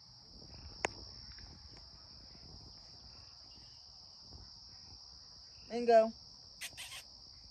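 Insects chirp in a steady, high continuous drone outdoors at sunset, constant throughout, with a brief spoken word and a few faint clicks and bird-like chirps near the end.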